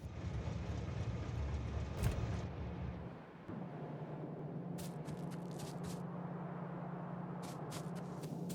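Trains run along the tracks in a factory-building video game, a steady low mechanical rumble with a brief dip midway, then a higher hiss and faint clattering bursts.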